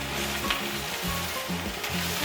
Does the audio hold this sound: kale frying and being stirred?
yes